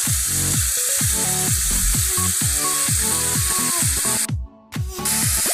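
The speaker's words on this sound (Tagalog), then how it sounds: "Ayan na po ang ating ginigisang chicken liver." Chicken liver sautéing with garlic and onion in a pan for pancit, a loud, continuous hiss and sizzle up close, with a brief drop partway through and no speech.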